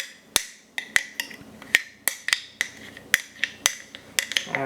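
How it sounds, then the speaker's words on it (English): Sharp scraping clicks of a utensil against the sides of a glass sourdough starter jar holding bleached flour and water, a dozen or so distinct taps and scrapes in uneven rhythm, close and fairly quiet with no talk. "I'll just scrape the edges of the jar"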